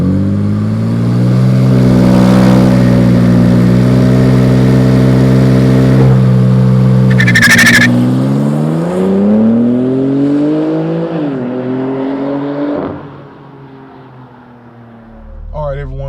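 2021 BMW G80 M3 Competition using launch control, a loud close engine roar climbing through gears with a shift break, then easing off into a lower drone and a final blip.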